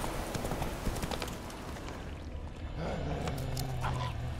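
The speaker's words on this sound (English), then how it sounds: "my horse appeared behind the tree." Steady clip-clop of horse hooves trotting amid dense, busy ambience in the video game The Witcher 3, fairly faint and continuous throughout.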